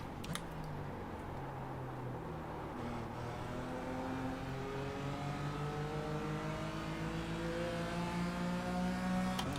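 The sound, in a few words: Porsche race cars approaching from behind in iRacing video game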